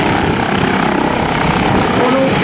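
Military helicopter on a tactical takeoff, its rotor and turbine roaring loud and steady throughout, with a constant broadband thrum close by.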